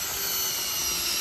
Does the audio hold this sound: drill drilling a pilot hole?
yes